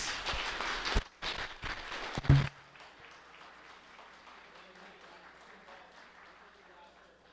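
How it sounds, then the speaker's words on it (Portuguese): A short burst of applause from a crowd that stops abruptly after a couple of seconds, followed by quiet room ambience. "nós acolhemos com a salva de palmas"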